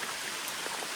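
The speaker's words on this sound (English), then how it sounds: "And here comes the rain." Steady rain falls during a thru-hike on the Appalachian Trail, a dense even hiss of drops spread across the whole moment with no voices.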